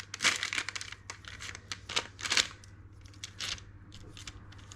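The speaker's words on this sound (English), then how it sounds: "I make 2 little snips like that in each one, using the tip of your scissors." Kitchen scissors cut small snips into raw sausage roll pastry, producing a series of short, crisp crunching snips in irregular clusters, close and fairly loud, with quiet gaps between.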